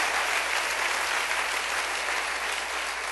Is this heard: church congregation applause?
yes